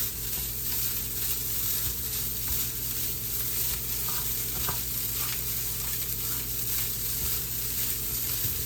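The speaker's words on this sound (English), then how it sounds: "Keep tossing, just toss, toss, and toss. And it's going to start getting brown." Fried rice with sesame oil tossed in a frying pan gives a steady, close, loud sizzle and frying hiss that runs without a break, with no talking.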